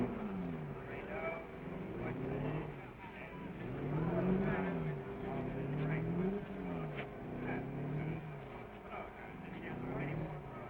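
The 1957 Corvette SS Mule race car circles a track, its engine rising and falling in repeated revving sweeps as it accelerates and shifts, with a narrator talking over the muffled, old-recording sound.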